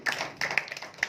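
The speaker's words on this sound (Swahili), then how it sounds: "Piga makofi kwa Yesu." A church congregation at a prayer service claps their hands: a few sparse, fairly soft claps and taps at an uneven rhythm, with no voices over them.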